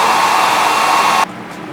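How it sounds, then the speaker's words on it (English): Hair dryer blowing steadily at close range over a 360 lace wig, a loud continuous airy rush that cuts off abruptly near the end, leaving only faint background hiss. "just kind of blow dry that"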